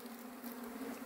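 Honey bees buzz in an open hive as they store honey in the comb cells among the brood, a steady low-level hum with a constant drone and no talk.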